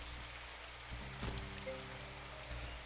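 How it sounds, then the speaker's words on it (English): Soft, steady rain in the game Rhythm Café, a quiet, even patter with a faint drip or two and gentle tonal notes drifting over it, no voices. "I peeked back out the window to see the rain had gotten lighter"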